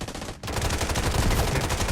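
Rapid automatic gunfire in the mobile shooter Delta Force Mobile, a loud continuous burst of shots after a brief pause, dense and close with no voices.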